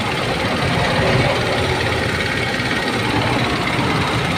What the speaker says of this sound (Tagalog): Yung makina, umaandar na.